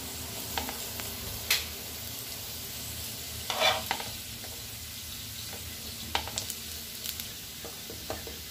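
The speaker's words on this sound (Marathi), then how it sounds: "आता आपण एक एक असं छानपैकी उलटवणार आहोत।" Pieces of elephant yam (suran) fry in a pan for tandoori suran, with a steady sizzle broken by a few sharp clatters and scrapes as they are flipped one by one.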